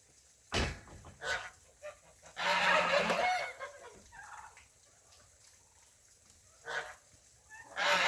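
Farmyard fowl on a homestead, likely geese honking among turkeys and chickens, with a loud burst near the start, a long noisy stretch of overlapping calls mid-clip, and scattered shorter calls toward the end.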